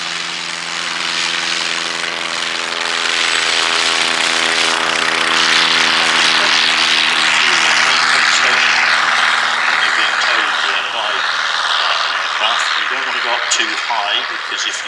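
A vintage propeller aircraft at an Old Warden airshow drones steadily while towing a glider, a continuous nearby engine hum with rich harmonics and wind rush, loud throughout with no clear talk.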